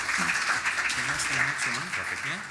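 A round of applause and clapping carries on under someone talking, moderately loud and steady throughout.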